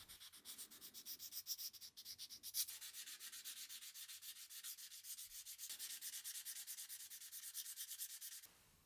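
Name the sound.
sanding the corners of knife handles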